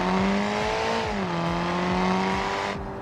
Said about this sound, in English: It's a loud little four-cylinder.